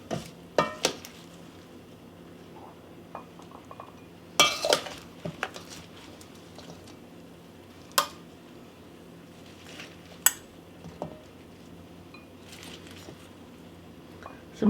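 Serving spoon scoops greens and fruit salad from a dish into bowls, with a few sharp clinks and taps of metal against dishware over soft rustling, spaced irregularly and fairly close.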